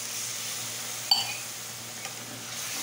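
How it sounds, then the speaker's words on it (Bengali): Paneer and onion gravy simmers in a pan just after water is added, making a low steady hiss. A spoon scrapes once sharply, then taps faintly a moment later. "জলটা দিয়ে একটু নাড়াচাড়া করে দিচ্ছি, এদিকে ঝোলটা ফুটতে থাক।"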